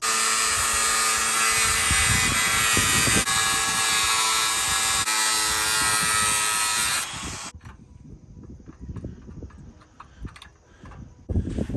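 Power tool with a cutting disc slicing through metal trim on a metal building, a loud, sustained high-pitched whine and grind for about seven seconds, then it stops and is followed by quieter scraping and handling noises.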